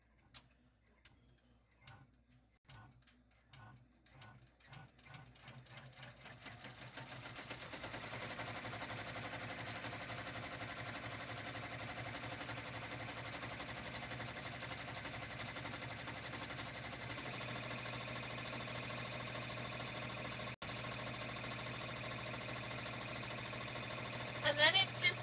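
An embroidery machine stitches a bag down onto stabilizer. Spaced mechanical ticks speed up, then settle into a steady, fast, rattling whir that runs on to the end, with a brief clatter at the close.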